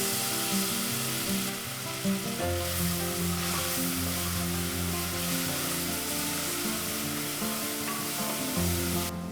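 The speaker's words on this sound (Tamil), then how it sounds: "இப்போ நம்ம இஞ்சி பூண்டு பேஸ்ட் போட்டுக்கலாம்." Ginger garlic paste fries with onions in a pan for chicken biryani, a bright continuous hiss and sizzle running under steady background music.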